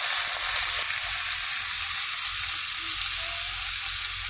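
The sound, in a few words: fish frying in a pan with eggplant and potato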